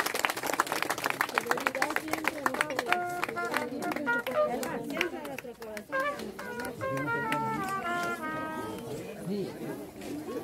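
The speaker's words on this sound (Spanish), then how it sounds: "Y un aplauso para mi hermano Conza." Mourners at a funeral in Atotonilco, Guerrero, clap in a brief burst of sharp, close claps that soon gives way to overlapping voices and chatter, with talk continuing to the end.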